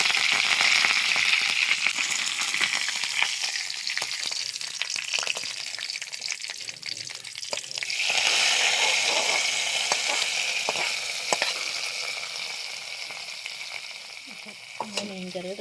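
Curry leaves tempering in hot oil for a Kerala fish curry give a steady crackling sizzle up close, with stirring scrapes and a burst of spitting as the leaves hit the oil.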